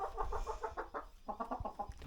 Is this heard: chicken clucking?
yes